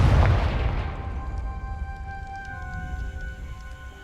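Confringo blasting spell from Hogwarts Legacy, a single loud close explosion that booms at the start and then fades into a long ringing tail with sustained tones.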